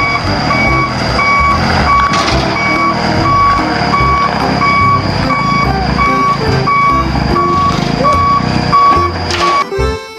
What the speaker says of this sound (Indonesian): Yang ini ada mobil truk molen panjang.